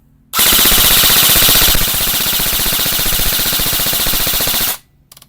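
An ICS airsoft rifle with an SSS III E-trigger fires on full auto, a loud, rapid, continuous burst of closely spaced shots lasting about four seconds before cutting off, with a few faint clicks afterward.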